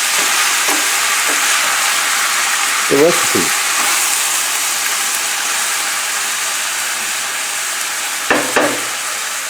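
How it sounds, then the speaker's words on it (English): Pork sizzling steadily in a hot pan, a continuous loud frying hiss with a few brief stirring clatters, while a voice speaks briefly over it. "Come on, keep frying."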